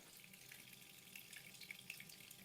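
Water runs steadily from a low-flow Toto Soiree faucet, a soft constant hiss with faint splashing and a few tiny drips, quiet and alone.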